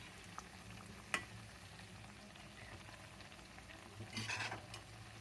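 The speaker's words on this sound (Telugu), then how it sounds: "కొంచెం మీడియం ఫ్లేమ్లోనే వేయించుకోవాలండి ఇది." Maida biscuits deep-fry in oil over a medium flame, a faint continuous bubbling sizzle with a sharp tap early on and a brief louder burst of crackle near the end.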